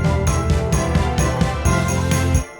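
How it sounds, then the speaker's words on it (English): Orchestral string run sweeping into a Christmas pop cue, layered over a full festive backing with bright chime-like shimmer, loud and continuous for about two and a half seconds before cutting off. "We've got also this string run that goes into it"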